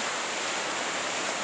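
Heavy rain falls on a beach at Mahé in the Seychelles, a dense, steady hiss of broadband noise that fills the whole short stretch without pause or voices.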